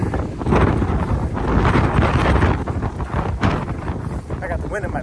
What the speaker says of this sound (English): I got the wind in my back this time